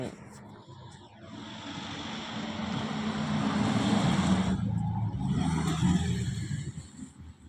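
A car brakes somewhere nearby, rising into a long, harsh hissing squeal that peaks mid-way and then cuts off, leaving faint background noise.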